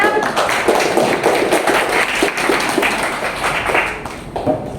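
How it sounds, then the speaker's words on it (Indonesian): A classroom audience applauds a presentation group in a dense burst of clapping that fades slightly toward the end. "Kasih aplaus buat kelompok 6"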